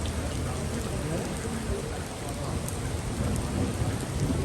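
Heavy rain mixed with falling hailstones at a hotel in Lahore, a loud, dense and unbroken wash of pattering that fills the whole stretch without pause.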